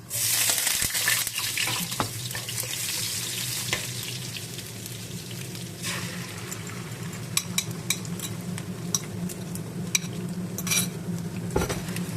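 Garlic frying in a pan for stir-fried glass noodles with egg gives a loud, steady close sizzle throughout, broken by occasional clinks and scrapes of stirring.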